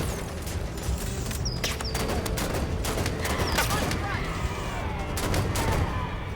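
Gunfire in the sci-fi shooter Halo 5: Guardians, heard as dense, continuous bursts of shooting mixed with booms and mechanical clatter throughout a busy battle soundscape.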